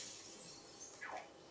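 Windscreen shatter effect from LittleBigPlanet 2, a single quiet burst of breaking glass with a brief tinkling tail near the end.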